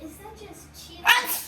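A single, sharp sneeze bursts out near the end, loud and close, after someone speaks over quiet indoor background noise.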